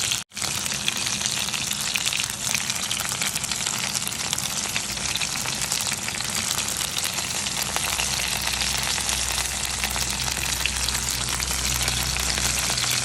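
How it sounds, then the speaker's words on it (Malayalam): Prawns coated in cornflour fry in hot oil, giving a loud, steady, continuous sizzle that runs unbroken throughout with no voices. "പിന്നെ നമ്മുടെ അടിപൊളി പ്രോൺ ഫ്രൈ ആയിക്കൊണ്ടിരിക്കുന്നു."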